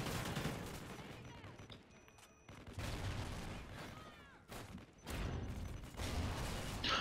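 Bursts of automatic gunfire in Call of Duty: Ghosts Safeguard mode, shooting through a wall, sound in loud stretches separated by brief lulls, with a few sharp reports and faint talk beneath.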